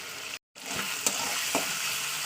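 Green beans fry in fish oil with a loud, close, continuous sizzling hiss. One brief full dropout interrupts it, then a couple of faint stirring taps.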